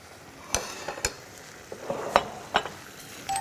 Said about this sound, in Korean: 나물을 볶아줄 때 오늘은 보통 이제 간장 양념으로 해서 볶는데요